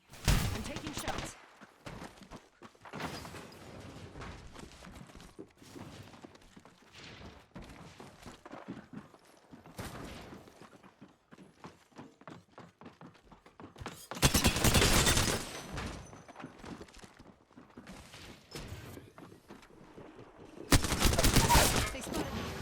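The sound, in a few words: gunfire in the video game Apex Legends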